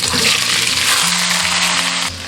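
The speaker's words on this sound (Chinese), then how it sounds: "我们先把芋头煎一下" Taro pieces pan-frying in oil, a loud, dense hiss of sizzling that holds steady and close, then drops off sharply near the end, with no one speaking.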